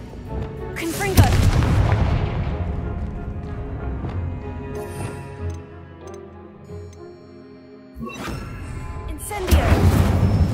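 Repeated fiery blasts from the Confringo spell in Hogwarts Legacy, loud booming bursts near the start and again near the end with a rumbling tail between them.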